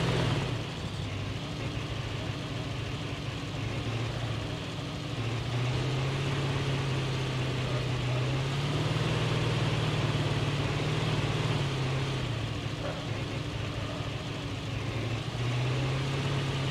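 Steady engine drone of a vehicle being driven in Call of Duty Mobile, a continuous loud low hum with slight shifts in pitch throughout and no voices.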